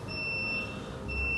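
The alarm buzzer of a 75kVA static voltage stabilizer sounds a steady, thin high-pitched electronic tone that briefly cuts out and resumes, heard alone over a low mechanical hum.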